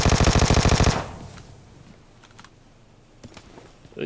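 A loud, rapid automatic burst of gunfire in PUBG Mobile, close and evenly paced, cutting off after about a second into a quiet game background with a few faint clicks and distant pops.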